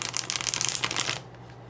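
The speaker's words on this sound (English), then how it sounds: "Cards are almost ready. Got to do one of these kind of shuffles." A deck of cards is shuffled in a quick riffle, crisp rapid flutters up close lasting about a second before falling quiet.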